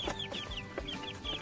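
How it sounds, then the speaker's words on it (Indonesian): Tame free-range village chickens cluck close by in a quick run of short, repeated calls. "Jadi ayam-ayam ini jinak."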